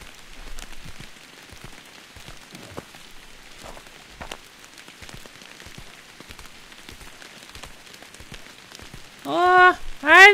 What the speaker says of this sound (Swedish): Jag är så trött på det här regnet.